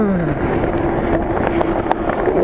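Strong wind buffets the microphone while someone rides an electric OneSpot ONES3 fat bike outdoors in the cold, a loud continuous rumbling roar with faint gusty fluctuations and no speech.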